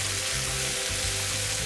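Ingredients for steak fajitas sizzling in a frying pan, a dense, loud, continuous hiss and crackle close by with a low rumble underneath and no talk.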